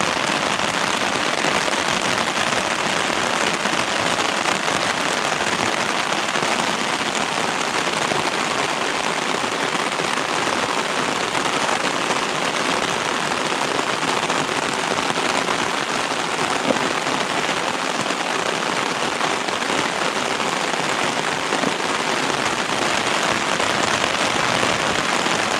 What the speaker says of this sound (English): we are trapped now underneath the umbrella because the rain is pounding hard